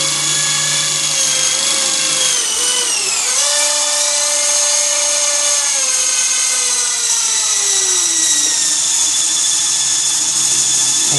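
A Traxxas QR-1 quadcopter drone buzzes steadily and loudly at close range, its whining rotor pitch dipping and shifting as it lifts off, then descends for a soft landing, with no talking.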